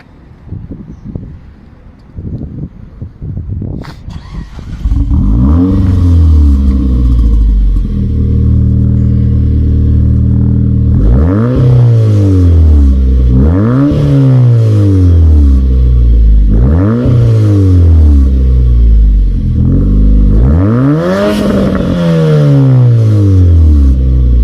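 A Dodge Caliber SRT4 engine cranks and catches with a loud rumble, then settles into a steady idle broken by four regularly spaced revs that each climb sharply and fall back, recorded close and loud.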